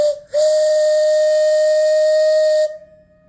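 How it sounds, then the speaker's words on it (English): A 2-inch single-chime steam whistle on a steam boiler sounds one loud, steady, sustained blast of about two seconds with a clear tone over hissing steam, then cuts off sharply. "And the whistle is a really nice 2-inch whistle."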